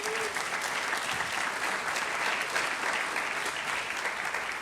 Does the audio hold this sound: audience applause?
yes